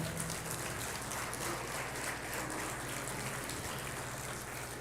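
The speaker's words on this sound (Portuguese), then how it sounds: "Você pode aplaudir ao Senhor por essa palavra?" A church congregation applauding after a sermon reading: faint, dense, rain-like clapping that holds steady throughout and sounds distant.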